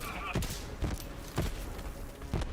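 Gunfire from a weapon in a video game: a few separate heavy shots spaced roughly half a second to a second apart, fairly close, with a voice talking over them.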